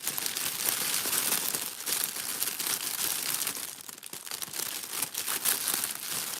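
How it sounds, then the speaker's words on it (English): Gift ribbon being handled and crinkled while dressing a Christmas gift basket, a continuous close, dense rustle with no talk over it. "I'm going to put the little ribbon thingy here on."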